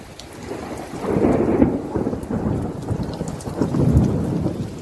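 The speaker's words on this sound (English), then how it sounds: "I love thunder." Desert thunderstorm with two deep rolling thunder rumbles swelling over steady rain falling on surfaces, close and fairly loud, with no voices.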